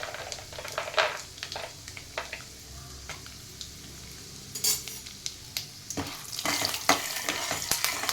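Urad dal and peanuts frying in hot oil for mango chitranna, a soft continuous sizzle with scattered spatula scrapes and clinks against the pan, close and moderately quiet, no voices.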